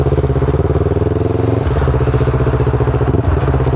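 A motorcycle engine during a beginner riding lesson, recorded close up with a steady pulsing low throb that shifts pitch slightly as the bike rolls and turns.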